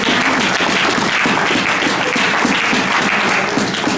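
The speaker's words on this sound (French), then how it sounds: "On acclame pour la parole de Dieu." A church congregation bursts into loud, sustained applause, dense steady clapping from many hands filling the space without a break.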